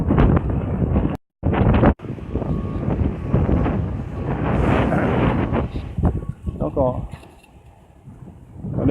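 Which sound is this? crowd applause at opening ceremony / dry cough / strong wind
strong wind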